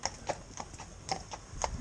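Hooves of a cob mare clip-clopping at a walk, an even rhythm of crisp knocks, fairly close and moderately loud with no talking.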